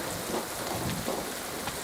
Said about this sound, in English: Protect me from the thunderstorm.